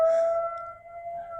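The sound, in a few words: sirens wailing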